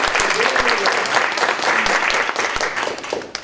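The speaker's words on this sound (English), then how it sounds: "Let's give our panel a round of applause." A live audience applauds a panel at a mental health partnership event, a dense sustained wash of clapping over the full clip with some voices mixed in.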